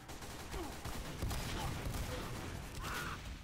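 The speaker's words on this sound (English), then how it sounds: "No, it was a scatter gun in the back." Scattergun blasts from behind in a Team Fortress 2 match, quick clustered shots among busy battle noise, faint and distant-sounding.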